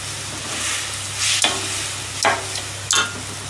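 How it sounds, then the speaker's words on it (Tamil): Low steady bubbling of a simmering lentil and greens gravy in a pot, with a few sharp scraping stirs breaking through at intervals, close by with no voices. "கொஞ்சம் கொதிக்கிறது இல்லையா?"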